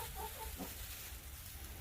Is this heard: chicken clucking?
yes